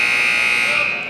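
A loud, steady electronic buzzer sounds at the end of a high school boys basketball game, holding one flat tone for about a second before trailing off slightly.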